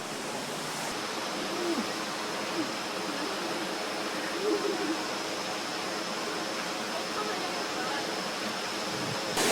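Cold water pouring over the Chambak waterfall, a steady broadband rush that holds constant and fairly close throughout, with no talk over it.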